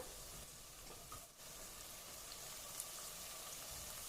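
Chopped country tomatoes sauté in a pan for a chicken curry, giving a steady, faint, even sizzle with soft crackle throughout and no voices.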